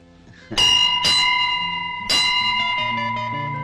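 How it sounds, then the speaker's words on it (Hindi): A temple bell rings three times, loud and close, each strike leaving a long shimmering ring that overlaps the next, the third stroke after a slightly longer gap. "जो कोई इस मंदिर की घंटी 3 बार बजाता है, उसकी शादी जल्दी हो जाती है"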